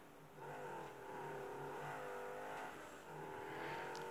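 Car engine revving hard while drifting, a sustained droning roar whose pitch sweeps up and down with throttle changes, loud and continuous, briefly dipping before surging again.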